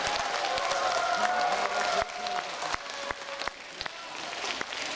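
Audience applause at an outdoor festival main stage after a Russian Yakutian ensemble's performance ending in a cover, a steady broad clapping wash with a sustained tone and faint voices underneath.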